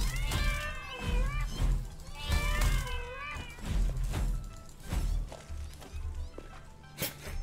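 Cat meows stand in for spider creatures in the video game Satisfactory with arachnophobia mode on, several rising and falling mews repeating over a busy game soundscape with thumps and ambient hum.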